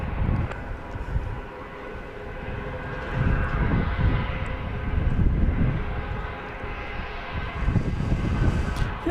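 A jet airliner moves across Dallas Love Field, a steady broad roar of engine noise holding throughout and swelling slightly midway, fairly close and without any voices.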